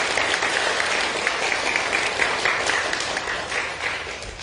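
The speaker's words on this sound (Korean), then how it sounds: "여러분 축복해 주시고 박수했으면 좋겠습니다" A church congregation claps in blessing for its young people during a Sunday service, a full, continuous round of applause from many hands that holds steady and fades slightly toward the end.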